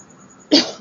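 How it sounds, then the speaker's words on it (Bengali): A single sharp cough from a person with a cold after getting soaked in rain bursts out after a half-second of near silence, close and loud, then quickly fades. "বৃষ্টিতে ভিজেছিলাম তো কাশি হচ্ছে"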